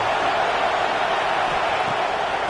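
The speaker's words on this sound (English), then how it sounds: "This crowd bringing the energy and noise early." A football stadium crowd produces a constant, loud roar of blended voices, a flat, unbroken wall of noise with no distinct cheers or talk rising above it.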